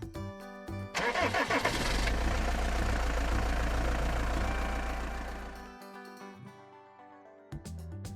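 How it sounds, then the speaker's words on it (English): A heavy engine cranks and starts, then rumbles loudly at idle for several seconds before fading out, with music around it. "Truck."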